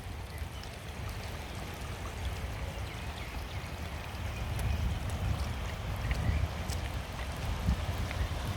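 Rainwater flowing into a blocked raingarden overflow pit at the tail end of a rainfall, a steady low gurgling rush and trickle that swells slightly toward the end.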